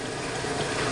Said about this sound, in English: Everything's draining out great.